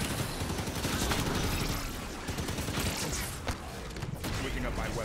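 Turret gunfire in the video game Halo 5, a dense run of rapid shots and mechanical clatter that persists throughout, loud and close, mixed with game effects.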